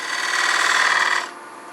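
A detail gouge shears wood on a spinning lathe while turning a bottle stopper display, making a steady, close, bright scraping hiss for about a second before easing off into quieter spinning.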